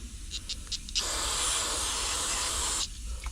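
Carburetor cleaner blasts into a push mower's carburetor in one steady, loud hiss of nearly two seconds, with quieter handling noises before and after.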